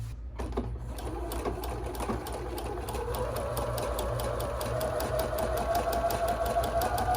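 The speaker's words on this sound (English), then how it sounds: "I'm going to sew all the way around" A sewing machine runs steadily, stitching around a fabric pumpkin-shaped baby teether toy, its needle ticking at an even rapid rhythm with a motor hum underneath, close and continuous.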